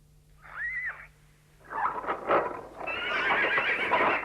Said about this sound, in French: nous avons toutes sortes de chevaux à l'écurie